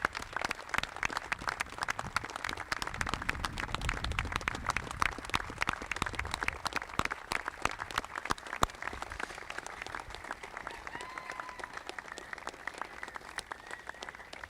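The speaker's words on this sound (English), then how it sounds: "please stand up and give these individuals a big applause" A standing audience at a Hall of Fame induction ceremony gives sustained, dense applause that holds steady for a long stretch, heard from some distance and moderately soft.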